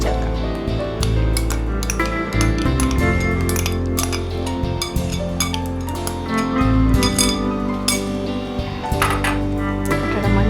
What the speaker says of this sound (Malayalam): മുട്ടയുടെ മഞ്ഞയും കൂടി ചേർത്ത് നന്നായിട്ടൊന്ന് ഇളക്കി യോജിപ്പിക്കാം.